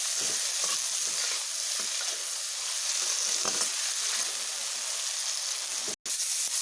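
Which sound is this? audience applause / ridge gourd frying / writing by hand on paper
ridge gourd frying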